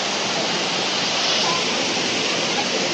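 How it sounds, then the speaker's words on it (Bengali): Waterfall water rushing down past stone steps at Panchalingeshwar near Balasore makes a loud, steady, close roar that stays unbroken throughout. "এইদিকে দেখো ঝর্নার জল বয়ে আসছে এসে এইটা দিয়ে চলে যাচ্ছে"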